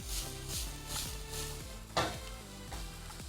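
Chicken and vegetables stir-fried in a pan for a macaroni dish, giving a soft steady sizzle with repeated scraping stirs and a brief louder clatter partway through, with no voices.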